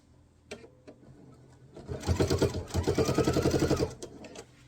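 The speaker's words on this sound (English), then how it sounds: "And you're just going to sew all the way to the end." A sewing machine stitches a knife-edge facing binding on a quilt: a few soft clicks first, then a loud, rapid, even run of stitching for about two seconds before it stops.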